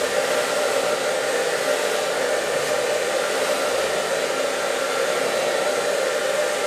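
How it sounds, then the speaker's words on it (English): A hair dryer blows continuously at close range on a haircut, a steady loud whooshing hum that holds level throughout. "dry it with a hairdryer"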